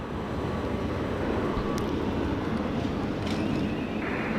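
A Jetstar airliner passes at Sydney Airport with a steady, broad roar of jet engine noise, moderately loud and continuous, with no voices.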